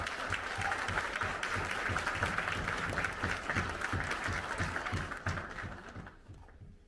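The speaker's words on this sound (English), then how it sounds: "give yourselves a big hand clap for being here" Sustained audience applause at a conference welcoming a pastor to the stage, dense steady clapping from a large crowd that fades out over the last second.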